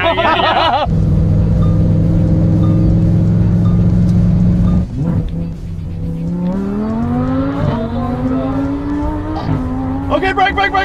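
A remote-controlled Lamborghini drives, its engine note holding steady, then dropping and climbing in a series of rising revs over several seconds, with brief tire or skid noises at the start and end.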